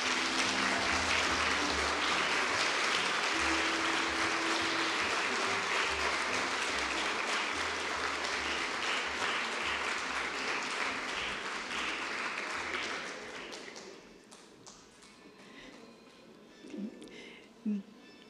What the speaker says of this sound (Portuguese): recebam uma salva de palmas de